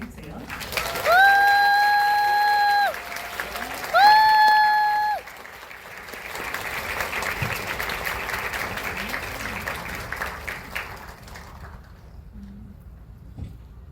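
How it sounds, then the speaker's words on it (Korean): An audience welcomes film director Hirokazu Kore-eda and his interpreter to a Q&A event. Two loud sustained tones open the stretch, then steady, moderately loud applause rises and continues for several seconds before fading out. "네, 큰 박수로 환영해주세요."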